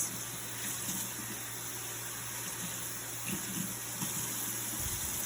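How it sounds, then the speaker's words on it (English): Tap water runs steadily into a sink during a handwashing rinse, a soft continuous splash and hiss heard close but at low level, with small shifts in the flow. "go ahead and rinse"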